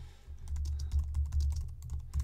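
Keys clatter on a Mac keyboard in a quick run of light, close clicks over a low steady hum.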